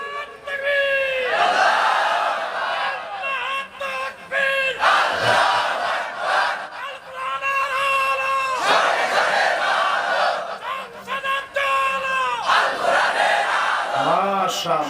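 A large crowd of young people at a rally in Dhaka chant a slogan together, loud and close, in repeated rhythmic bursts of massed voices with brief dips between phrases.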